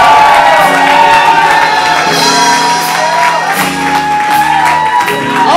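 A crowd cheers at a rap release party, a loud, dense wall of shouts and whoops that holds for several seconds, with music playing underneath.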